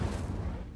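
A fire spell cast in Hogwarts Legacy, a short burst with a low rumbling whoosh that stays steady and loud through under a second, with no voices.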